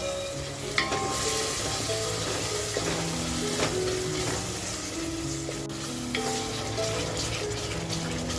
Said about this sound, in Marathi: ते अळणी पाणी थोडंसं टाकून घेते